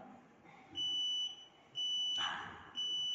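An alarm sounds three times, steady high electronic beeps each lasting about a second, loud and close. A sharp clatter lands between the second and third beeps.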